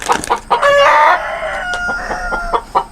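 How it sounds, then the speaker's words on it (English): A hen clucks loudly and repeatedly inside a chicken coop at the height of egg laying, sharp close calls with a louder squawking burst near the start and fainter clucks following. "Sorry about the noisy hen."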